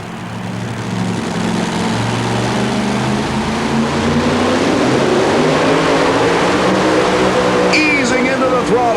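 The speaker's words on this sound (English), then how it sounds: "original bright yellow 1923 T-Roadster with supercharged Chrysler Hemi power" A bright yellow 1923 T-Roadster with a supercharged Chrysler Hemi engine roars steadily through a 1991 two-wheel-drive truck pull in Pennsylvania, a loud sustained drone under crowd noise and an announcer's commentary, with a high whine near the end.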